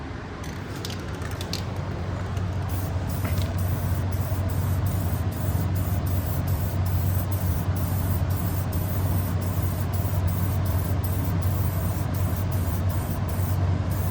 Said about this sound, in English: We got the two that are black, so we're gonna paint them chrome.